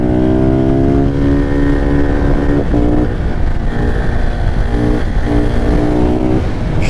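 A KTM 690 SMC R supermoto's single-cylinder engine drones steadily and loud while its tyres are warmed, pitch rising and dipping gently with small throttle changes, close up and without any talking.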